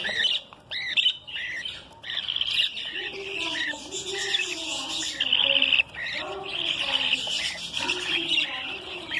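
Lutino Australian budgerigar chicks in a breeding nest give continuous high, scratchy chirps and squawks, several overlapping close by and fairly loud throughout.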